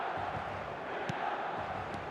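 Stadium crowd noise from an eFootball match with Al Nassr playing Al Feiha, a steady, broad roar of massed fans holding at an even level throughout, with a couple of brief sharper bursts rising out of it.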